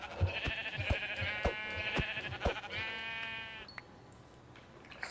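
Sheep in the Minecraft Skyblock video game give several bleats in a row, wavering nasal baas with sharp clicks in between, moderately loud before fading out.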